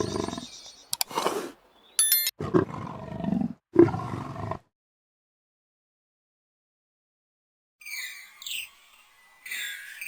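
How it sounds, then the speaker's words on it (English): A young male lion in the Okavango wild lets out loud, close roars in several bursts, followed by silence and then a few higher calls later on. "With a loud roar, the young male declares his power"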